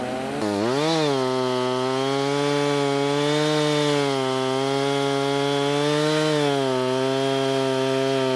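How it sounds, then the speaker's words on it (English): Chainsaw sawing off large tree trunks, a loud steady engine whine close by, throttled up after a brief rise and held at high revs throughout, no talking. "These trees were just too big to pull, so we had no choice but to saw them off and grind them."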